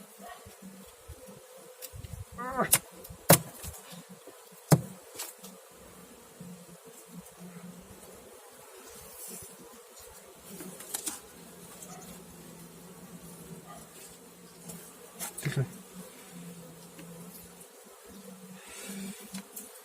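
Steady, soft buzzing of many honeybees close by at an open hive during inspection, with occasional louder knocks and brief clatters.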